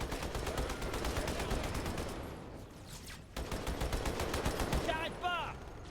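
Rapid automatic gunfire in Halo 2 Anniversary rattles in fast, even bursts with a brief pause in the middle, fairly soft in level, and short high-pitched game sounds at the end.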